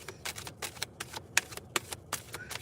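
A deck of tarot cards being shuffled up close, a quick run of crisp riffling clicks and flicks in uneven bursts, fairly quiet and with no voice.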